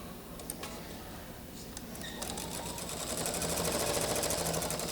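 A sewing machine stitching quilt hexagon pieces starts with a few scattered clicks, then builds into a steady, fast mechanical whir that grows a little louder toward the end.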